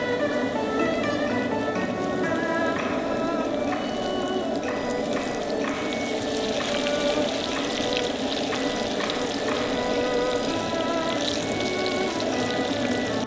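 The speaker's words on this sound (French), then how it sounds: "La carpe est frite." Carp fillets deep-fry in hot oil, a loud, continuous crackling sizzle with fine popping bubbles that stays steady throughout, heard close up and alone with no talk.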